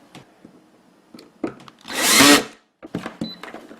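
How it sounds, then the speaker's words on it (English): A power drill drives a screw into a fish finder mount on a boat swivel plate, a single loud whirring burst of about a second, framed by handling clatter and clicks of parts being set in place. "This, and we'll take our power drill."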